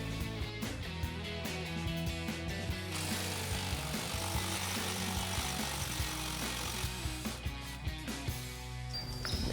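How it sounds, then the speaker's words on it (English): An impact wrench with an 18mm socket running out bolts and retainer nuts on the steering stabilizer of a 2008-2024 RAM 2500 truck, loud rattling bursts close by with mechanical clatter throughout. "We're going to remove the 2 18mm bolts holding it in place."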